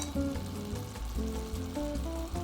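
Beef stroganoff with bouillon and tomato bouillon sizzles steadily in a pan as it is stirred, giving a soft, continuous crackle with faint tonal sounds underneath.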